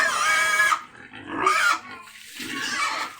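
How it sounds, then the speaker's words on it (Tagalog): Pigs on a farm grunt and squeal loudly in three bursts while being bathed with water, close by and without talking. "pinapaliguan na yung mga baboy"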